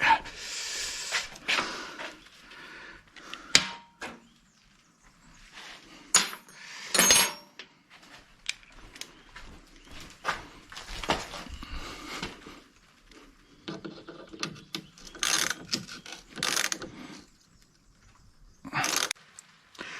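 Small metallic clicks, taps and tool clatter while a screw is tightened on a collectible GSI 16V, intermittent close handling noises with quiet gaps between them.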